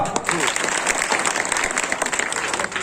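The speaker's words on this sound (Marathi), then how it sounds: "टाळी वाजवा" An audience at a kirtan gathering claps in a brisk burst of applause, mixed with voices talking over it.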